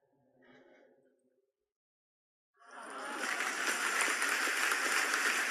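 Applause sound effect for a radio-style comedy hour, silent at first, then a brief faint murmur, then a sustained, steady wash of clapping and crowd noise rising after a pause and continuing to the end.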